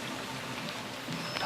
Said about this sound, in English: as you can see, I do have rain on me